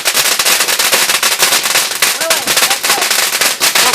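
Fireworks going off in a rapid crackling barrage, dense loud popping bursts repeating nonstop, with voices faintly mixed in.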